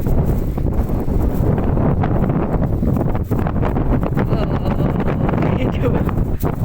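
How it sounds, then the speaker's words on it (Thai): Strong wind during rain while fishing at a lake in Lopburi, Thailand, buffets the microphone in a constant, loud roaring rush, with gusty swells and rustling for the whole stretch. "ลมแรงโพดติด"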